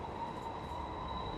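Train running in an anime episode: a steady low rumble of rail wheels with a thin sustained high whine, even and continuous throughout, no voices.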